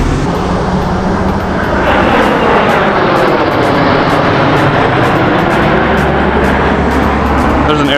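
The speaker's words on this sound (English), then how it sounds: "So I guess that plane's doing something too." A plane roars overhead at an air show near Charleston Airport, a loud broad rumble with a slowly shifting pitch that fills the scene, heard over steady wind and road noise from a motorcycle rider.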